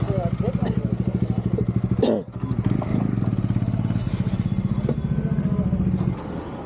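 A motorcycle engine runs steadily on a road trip from Mysore toward Munnar, its close, rhythmic pulsing throb continuing throughout with a brief dip in level partway through.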